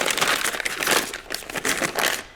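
A plastic bag holding pork loins of about a pound each crinkles and rustles in close, uneven bursts as the meat is handled for marinating.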